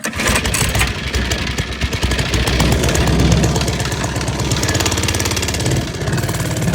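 A gas mini bike with a 224 engine, choke on, catches and runs with a rapid, uneven putter and knock close by, its chugging rhythm steady and loud throughout.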